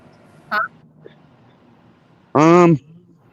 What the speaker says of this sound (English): There's birds chirping, crickets, locusts, cicadas, tree frogs, all kinds of stuff.